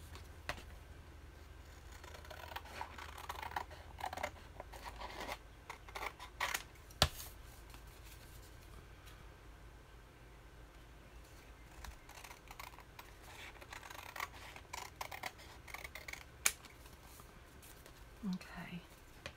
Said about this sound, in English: So I'm going to go ahead then and just cut around the edge of this.